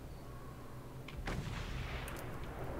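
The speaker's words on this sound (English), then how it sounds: "This guy's gonna shoot at me a bunch." Enemy gunfire in the Mad Max video game, a low booming shot near the middle over a rumbling background of game noise.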